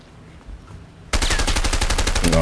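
Shotgun gunfire in the video game A Way Out bursts in suddenly after a quiet stretch, a loud run of rapid, closely spaced blasts that keeps going to the end.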